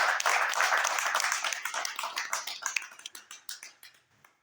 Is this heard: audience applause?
yes